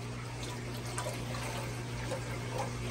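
Water pumping from an aquarium tank into a hanging breeding box: a steady, quiet rushing and trickling flow over a low hum, continuous and without talk.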